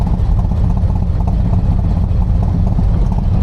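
A motorcycle idles on the seafront at Morecambe, its exhaust giving a loud, low, lumpy chop that rumbles steadily and close throughout.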